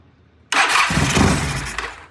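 A 1974 Norton motorcycle started on choke catches abruptly after a brief quiet moment and bursts into a loud, rough running roar close by, with no voices.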